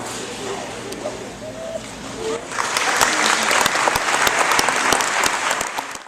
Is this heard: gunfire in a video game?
no